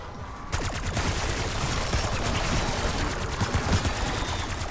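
Assault rifle fire in the video game Black Ops 6 Zombies, a sustained rapid automatic burst starting after a brief pause and rattling on loud and close without let-up.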